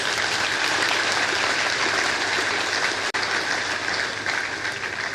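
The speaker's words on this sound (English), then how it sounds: "I think that deserves a round of applause" Audience at a professional institute's induction ceremony for new members breaks into sustained applause, a loud, even wash of clapping that fills the hall for several seconds with a brief dip midway.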